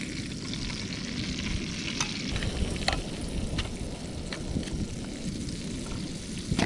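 Brisket frying plain in a pan, with no salt or pepper, gives a steady close sizzle and crackle that runs on alone, with a few sharper pops along the way.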